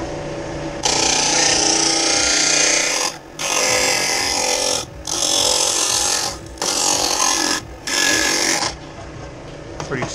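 A Harbor Freight 12-inch disc sander whirs loudly and close by, running in long steady stretches broken by four brief pauses, with no voice over it.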